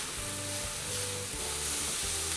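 Chopped onion and celery sauté in a pan as the base of a soffritto for white Bolognese ragù, with a loud, dense, continuous sizzle and a few stirring movements.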